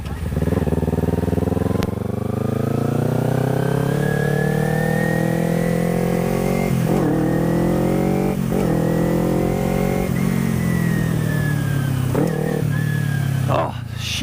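A motorcycle engine close by revs and climbs through gears while riding, then drops pitch in downshifts, with one clumsy shift; the loud, steady drone lasts throughout.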